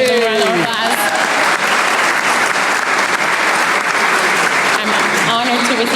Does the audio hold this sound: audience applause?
yes